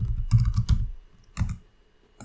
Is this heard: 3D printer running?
no